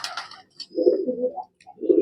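A large pigeon held in the hand coos in short, low, throaty bursts up close, with a brief higher sound at the start.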